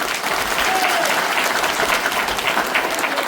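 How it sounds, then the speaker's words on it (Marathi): A crowd at an election rally breaks into loud, dense applause, a steady wash of many hands clapping throughout with no pause. "सगळ्यांनी माझ्यासाठी जोरदार टाळ्या वाजवा."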